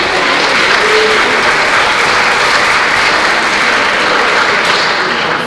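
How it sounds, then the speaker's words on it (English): A full room claps at an Obria anniversary event. The applause is loud and dense, with sustained, even clapping from a large indoor audience that never lets up, and no voices are heard over it. "Let's give a round of applause to Keith for our service"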